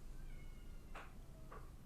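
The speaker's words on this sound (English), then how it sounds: "You can probably hear my cat screaming in the background." Domestic cat meowing in the background, two faint distinct meows a half-second apart, distant and muffled against a low steady room hum.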